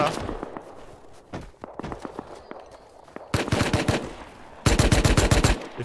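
Gunfire in the survival game Rust starts as scattered single shots and taps, then turns into loud, fast automatic bursts near the end, with players talking over it.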